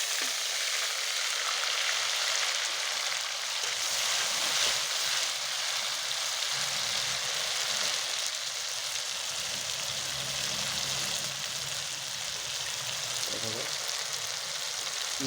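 Cumin seeds and bay leaves fry in hot oil for an Assamese matron curry, a dense, steady sizzle filling the whole stretch, loud and close, with faint clinks of a spoon underneath.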